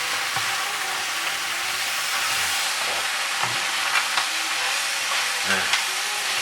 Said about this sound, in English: So I'm going to add my prawns into the mussels. I'm just gonna stir them up.